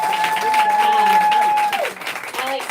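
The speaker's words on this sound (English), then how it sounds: "Yes, it's good to clap at that point, so feel free to do it once more very loudly." A bookstore audience at a book launch claps together in a dense burst of applause that swells and then fades, while a voice talks over the clapping.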